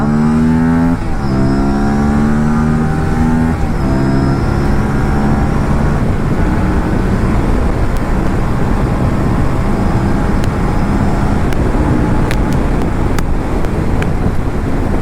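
An Aprilia RS 457 motorcycle engine roars continuously at about 140 km/h in eco mode, revs rising through a couple of gear shifts, with heavy wind rush over the microphone throughout.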